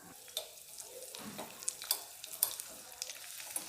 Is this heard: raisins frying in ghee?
yes